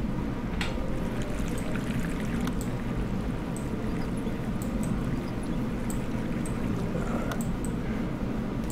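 Continuous running water from leaks in the video game House Flipper, a steady pouring rush with faint drips and clinks on top, unbroken for the whole stretch.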